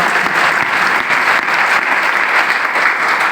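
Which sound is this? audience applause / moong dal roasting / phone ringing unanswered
audience applause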